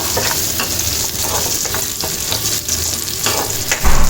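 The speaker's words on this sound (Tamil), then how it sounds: "இந்த வெங்காயம் காஞ்ச மிளகா பூண்டு கருவேப்பிலை எல்லாம் நல்லா பொறிஞ்சோடனே நம்ம அந்த பருப்பில் சேர்த்துக்கலாம்" Onion, dried red chilies, garlic and curry leaves frying in oil for a dal tempering, a loud, dense, continuous sizzle up close with faint scraping of stirring throughout.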